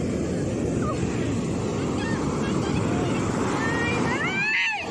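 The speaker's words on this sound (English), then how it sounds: "the waves make such a big noise" Ocean surf on the Kerala coast roars as a continuous, loud, broadband wash of breaking waves, mixed with heavy wind buffeting the microphone and a brief high squeal near the end.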